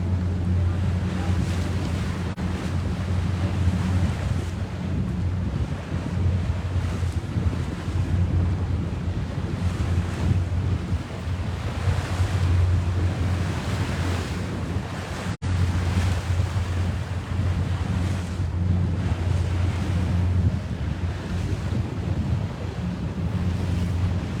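Wind and waves around an SB20 keelboat racing under sail, a loud continuous rush of breeze buffeting the microphone over low wash and slapping water, steady and close with no talk.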